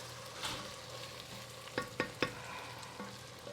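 Vegetables cook in a pan with a faint, low sizzle while being stirred, a few quick scraping knocks standing out near the middle.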